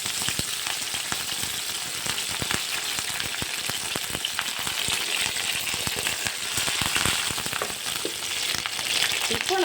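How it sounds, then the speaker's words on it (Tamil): Curry leaves frying in hot oil, a loud, continuous close sizzle with crackling pops and occasional stirring throughout. "எண்ணெய் காஞ்சதும் இந்த கருவேப்பிலையை மட்டும் போதுமானது"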